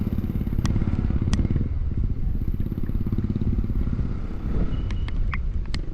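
Motorcycle, an Ns200, R15V2 or Rc200, roaring loudly and steadily up close during a fast ride in the rain, a dense continuous engine drone with occasional clicks and rattles and no talk.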